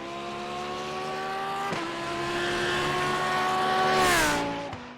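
A Lamborghini Super Trofeo race car at full throttle on the WeatherTech Raceway Laguna Seca circuit: a loud, close, sustained engine howl that climbs in pitch, breaking briefly for gear shifts, with no talking.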